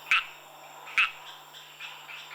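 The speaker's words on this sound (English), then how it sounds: "the mating calls of some of Madagascar's 300 frog species fill the jungle" Frogs calling at night in a tropical Madagascar jungle: two sharp, bright chirping calls about a second apart, then softer calls trailing off against a steady insect-like hiss, with no voices.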